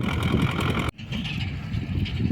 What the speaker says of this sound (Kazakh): Кайра трактор салайын деп атам.